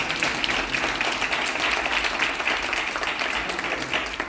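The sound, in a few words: audience round of applause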